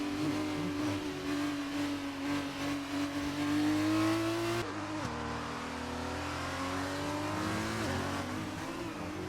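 Race cars in an F2 racing game at the Hungarian GP, engines droning steadily behind the safety car, with one clear engine note rising in pitch before a sudden shift and continuous mechanical hum.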